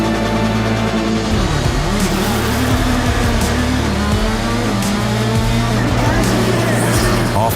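GRC rallycross race cars at Atlantic City launching off the start line, a loud, dense roar of engines revving and accelerating together, with a commentator talking over the noise.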